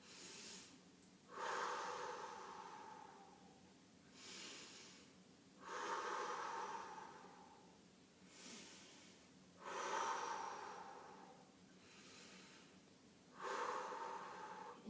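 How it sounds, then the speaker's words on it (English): Deep breathing during a prenatal abdominal workout: four big drawn-in inhales each followed by a strong, forceful exhale, close and clear, repeating in a slow steady rhythm with no talking. "a big inhale, fill your belly as you inhale, and then a strong exhale"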